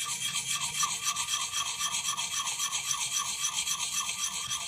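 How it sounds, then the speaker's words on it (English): KME sharpening stone rubbed in small circles high on the bevel of an axe, a steady close rasping scrape with a quick regular pulsing rhythm, fairly quiet and without talk. "typically I would just start doing circles high up on the bevel"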